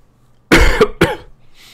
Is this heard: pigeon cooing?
no